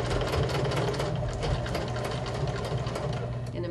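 A sewing machine runs steadily, stitching rickrack trim onto fabric, its fast even whirr and needle clatter loud and close for the whole stretch, with a low motor hum underneath.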